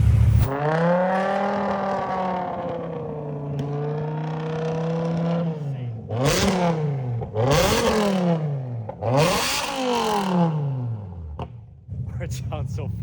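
The V10 engine of a BMW M5 E60 idles with a rich harmonic drone, then revs sharply three times in quick succession, each rise and fall loud and close, ending in a settled idle.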